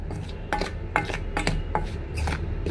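Lote fish pieces being mixed by hand with chili powder and salt, giving a series of wet, squelching and scraping strokes against a dish at a steady, fairly close rhythm.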